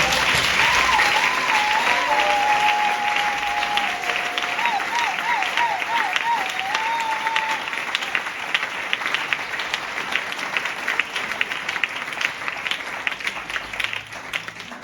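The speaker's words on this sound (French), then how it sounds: "Donnons une acclamation à la parole." A church congregation claps in sustained applause during a sermon, loud and continuous, while a voice sings or calls out over the start before the clapping carries on alone.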